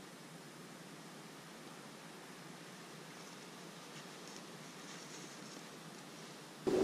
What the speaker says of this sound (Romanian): Bate vântul, plouă și super frumos.